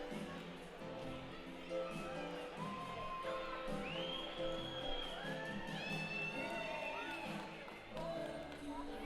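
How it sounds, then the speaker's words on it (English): Crowd cheering and whooping at a hockey game in City National Arena, a steady roar of voices with rising whistles and shouts from the stands, heard at a distance throughout. "Crowd here at City National Arena enjoying it."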